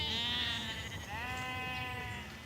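A sheep bleats loudly and close by as a flock is herded down from the fields on a Tudor-era farm, with a second bleat following right after.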